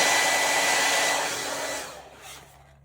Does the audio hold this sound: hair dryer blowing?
yes